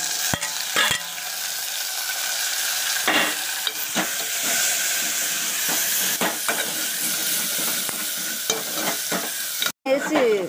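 Tomatoes fry in hot oil in a pan for a tamarind soup, a loud, close, continuous sizzle broken by sharp scraping clicks of a stirring spoon, with no talking.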